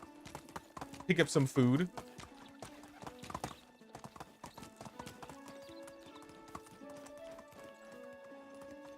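Horse hooves clip-clop at a steady walking pace in the medieval village game Medieval Dynasty, with a loud neigh early on, then light hoofbeats continuing under a voice.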